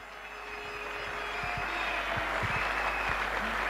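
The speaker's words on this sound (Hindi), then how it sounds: "गगन भेदी तालियों से इनका स्वागत करें" Sustained audience applause at an Amway leadership event, steady and fairly distant, with scattered sharper claps standing out over a continuous wash of clapping.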